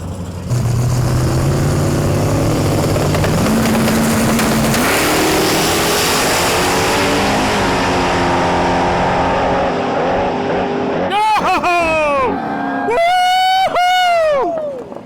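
Race cars in the Little Gangsters drag race final roar loudly as they accelerate, with the engine pitch climbing in stepped gear shifts. Near the end come sharp, wavering high-pitched whines.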